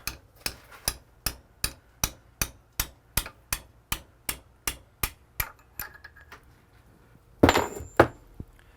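Tapping a piston out of a brake master cylinder held in a vise on an Audi TT kit car, about twenty even metallic hammer taps in steady rhythm, then a louder clatter.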